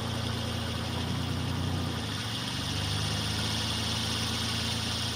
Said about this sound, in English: I think now I wanna try and start the truck and see if we still hear the noise.